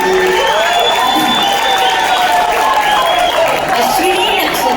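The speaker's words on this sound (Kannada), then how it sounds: "ಒಳ್ಳೆ ಚಪ್ಪಾಳೆ" A large audience at a comedy stage show claps and cheers loudly, with whoops and shouts layered over continuous applause and voices calling out throughout.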